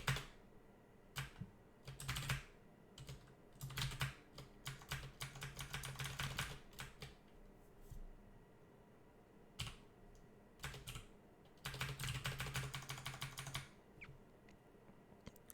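Keys clack on a computer keyboard in uneven bursts of rapid presses separated by short pauses, with the player repeatedly hitting tab while playing Dungeon Crawl Stone Soup.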